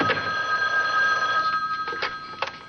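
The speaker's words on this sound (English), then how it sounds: "There's my phone" A telephone in a home rings with a steady electronic trill, then breaks into short bursts; the ringing sits up close and alone, with no voices over it.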